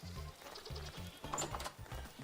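Goats in the survival game Vintage Story bleat repeatedly in short separate calls, several overlapping bleats close by with faint clicking in between and no speech.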